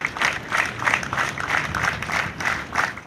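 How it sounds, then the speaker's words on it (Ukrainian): Mourners at a funeral farewell for People's Artist of Ukraine Oleksandr Yakymchuk clap in slow, rhythmic unison, about three beats per second, loud and steady outdoors. "проводили Олександра Якимчука як зірку сцени аплодисментами"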